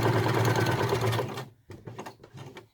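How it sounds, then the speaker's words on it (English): A sewing machine stitches around the edge of a snap-shut glasses case, running as a steady close buzzing whirr before breaking into a few short stop-start bursts. "Just sew all the way around until"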